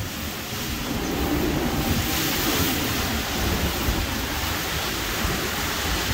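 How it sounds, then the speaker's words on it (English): Hurricane-force wind in Florida roaring steadily and loud, a dense unbroken rush of noise buffeting the microphone with no voices. "The wind's hitting that container so hard, it's making a vortex where the water can't sit right there on the ground."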